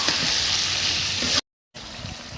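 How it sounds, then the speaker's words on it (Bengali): Chicken pieces fry with spices and salt in a hot pan, giving a dense, close sizzle that stops abruptly for a moment of silence, then resumes a little quieter. "এবার আমি মাংসটা কষিয়ে নেব, তাই মাংসটা দিয়ে দিলাম।"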